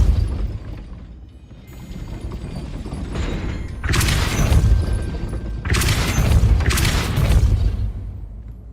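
Depulso, the force-push spell in Hogwarts Legacy, cast several times: loud whooshing bursts with deep booming low ends, one short and then two longer blasts close together, over a steady low game rumble.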